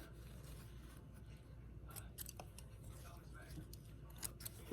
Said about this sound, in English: you can just cut off your extra threads from where you had to stop and restart again, and just trim this